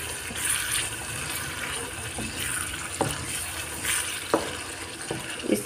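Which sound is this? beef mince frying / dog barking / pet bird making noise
beef mince frying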